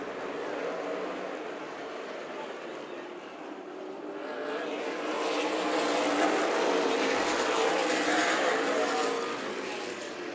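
Race cars roar around the oval at Stockton 99 Speedway, a dense, distant engine wash that swells louder midway as the pack drags down the back straightaway.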